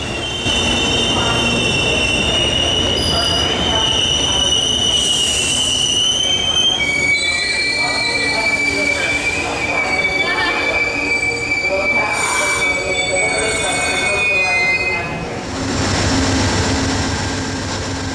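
An Amtrak 50th anniversary train rolls past close by with a loud, continuous rumble, and its wheels let out sustained high metallic squeals that rise and fade throughout the pass.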